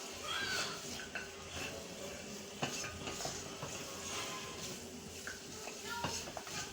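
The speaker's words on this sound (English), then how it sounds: "toss or else you can mix it with a spoon" A spoon stirs chicken lollipops in a pan over low heat, with soft repeated scrapes and clinks over a faint sizzle and a steady background hum, while a voice talks quietly.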